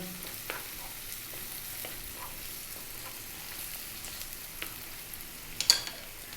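Onion and garlic-ginger paste frying in a pan for tofu curry, a soft steady sizzle with light scattered crackles and a few stirring clicks, fairly faint and even, no talking.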